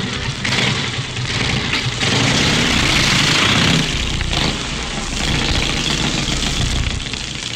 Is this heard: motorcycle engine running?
yes